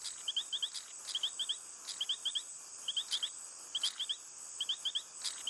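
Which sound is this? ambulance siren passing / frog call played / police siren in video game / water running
frog call played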